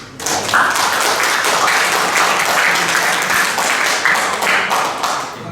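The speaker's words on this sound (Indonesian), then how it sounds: "berarti kita beri aplaus dulu" An audience at an anti-corruption awareness session bursts into loud, sustained applause, many hands clapping densely and evenly for about five seconds before easing off slightly at the end.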